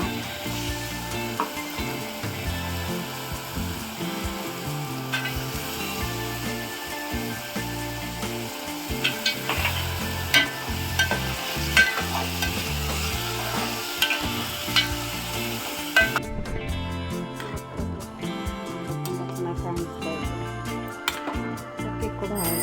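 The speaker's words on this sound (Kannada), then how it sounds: "ಅವರೆಕಾಳು ಹಾಕ್ತಾ ಇದ್ದೀನಿ ಇವಾಗ" Field beans (avarekalu) frying in a pan with masala tempering in a home kitchen, a continuous close sizzle and crackle with repeated scraping stir strokes, steady and moderately loud throughout.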